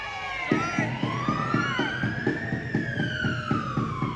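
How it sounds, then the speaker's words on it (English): A police siren wails with rising and falling tones over a rapid, pulsing low rumble, loud and close, continuing throughout, at a protest outside NSW Parliament House. "Whoop, whoop, that's the sound of the police."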